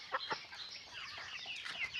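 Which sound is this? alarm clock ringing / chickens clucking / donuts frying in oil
chickens clucking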